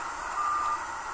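Reversing beeps from a Blue Bird 3800 school bus shifting into reverse: a steady high electronic tone sounds across the middle of the short clip, with no talk.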